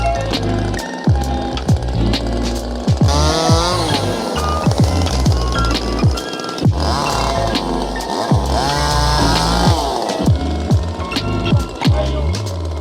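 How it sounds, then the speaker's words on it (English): Chainsaws cut through pruned olive tree branches on a Portuguese farm, loud and close, revving up and down continuously with rising and falling engine pitch. "these guys are just going to eat through it with these chainsaws."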